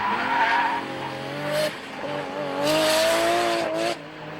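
A 700 bhp Nissan R33 Skyline at Elvington accelerates hard, its engine revving in rising bursts while the tyres squeal loudly and continuously, with brief gaps between gear changes.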